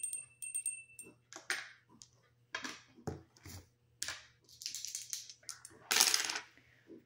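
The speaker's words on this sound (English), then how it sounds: "rolling the dice to see what I need to shuffle a deck to" Dice rattle and clatter on a hard surface in several short, sharp bursts separated by brief pauses, close and fairly loud.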